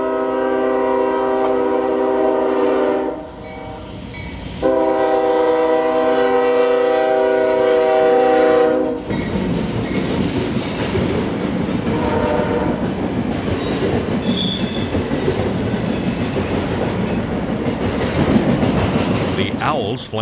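Freight train K803 rolls through town on the S-line, opening with a long, loud multi-tone horn blast, then a steady rumble and clatter of wheels over the track as the cars pass close by.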